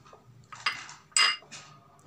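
A spoon clinks and scrapes against a bowl while turmeric, red chilli, coriander and cumin powders are mixed as stuffing for bharwa bhindi, giving a few sharp metallic knocks with softer scraping between them, close and alone.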